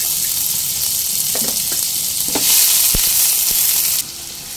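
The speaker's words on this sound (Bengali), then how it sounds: "তেল গরম হয়ে এসছে। এবার দিয়ে দেব পেঁয়াজ কুচি।" Chopped onion drops into hot mustard oil and fries with a loud, steady sizzle, broken by a few sharp clicks of utensil on pan, no voices.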